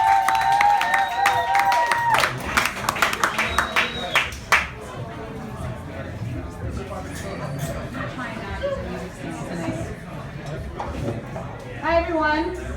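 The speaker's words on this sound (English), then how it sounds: "Start clapping for Mary and Geneva." Audience at a poetry reading in the Parkside Lounge clapping and cheering, dense applause with whoops and crowd chatter that tapers into murmuring talk, with a brief burst of claps near the end.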